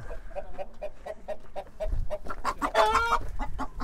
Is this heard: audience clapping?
no